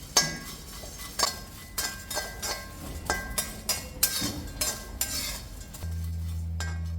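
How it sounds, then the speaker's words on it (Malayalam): Dried shrimp fried in a pan with a rhythmic run of metal spoon clinks and scrapes over a soft sizzle, followed near the end by a steady low hum. "കുറച്ച് ഉണക്ക ചെമ്മീൻ വറുക്കെടുക്കുന്നുണ്ട്"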